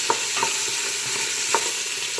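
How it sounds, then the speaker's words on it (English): Chopped vegetables for chicken soup sizzle and caramelize in a hot pot, a steady hiss of frying broken by a few soft stirring scrapes. "just want to let them cook for a few minutes to get a little bit of caramelization on the vegetables"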